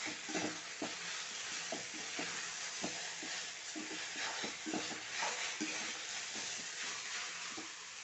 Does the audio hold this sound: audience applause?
no